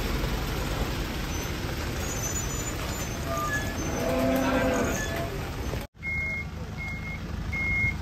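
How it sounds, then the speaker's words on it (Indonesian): Cattle being unloaded from a truck in the rain, with faint moos over steady broadband rain and truck noise, then a sudden cut followed by repeated short reversing beeps. "Kedatangan sapi guys."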